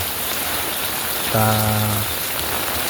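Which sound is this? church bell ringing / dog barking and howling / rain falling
rain falling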